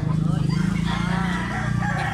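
A yellow-tailed rooster crows loudly and close, a drawn-out call filling the whole moment amid farm background noise.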